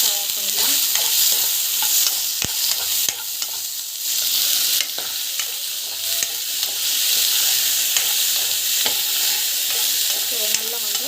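Greens stirred and sizzling in a hot pan with urad dal, chana dal and tomato, a continuous close frying hiss broken by spatula scrapes and clicks, with no voices.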